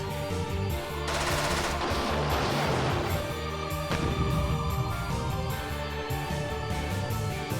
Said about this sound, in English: The missiles spew flames behind them. Misane starts by firing too.